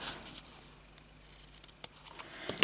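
Scissors snip through recycled clothing fabric in a few quiet, close cuts, soft blade crunches spaced across a short, otherwise hushed moment.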